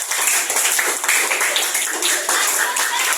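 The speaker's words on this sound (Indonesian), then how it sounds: "Ya, kasih tepuk tangan dulu buat" A classroom of students claps for a classmate's presentation, dense, even applause filling the room from start to finish at a fairly loud, close level.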